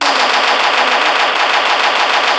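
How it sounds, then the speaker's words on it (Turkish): A semi-automatic weapon in a modded video game fires a rapid, unbroken stream of loud, close shots for the whole stretch, with no talking over it. "Yarı otomatik bir silah."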